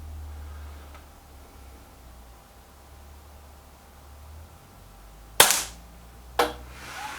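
An Air Arms S510 Ultimate Sporter air rifle fires a single sharp, loud crack during a test, followed about a second later by a softer second snap, against a quiet, faint background hiss.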